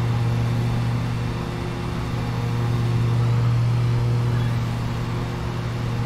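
Steady low drone of a ride-on lawn mower engine in the game Lawn Mowing Simulator, the mower having extra horsepower and a wider deck; the engine hums evenly and loudly throughout with a slight swell midway.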